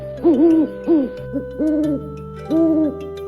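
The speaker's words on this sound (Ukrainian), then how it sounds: "А це сова. Вона гукає угу угу." Clear owl hoots, four calls in a slow, evenly spaced series, close and loud with no other sounds.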